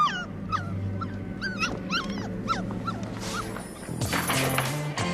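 Dog yips and whimpers over a steady low rumble of background noise, with rising and falling cries scattered through the clip and a burst of louder, harsher commotion near the end; no speech.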